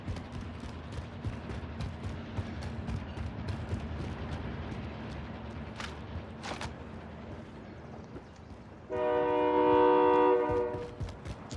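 A train rumbles past in a video game, a continuous low roar with a few sharp clanks, then a loud, tonal horn blast near the end.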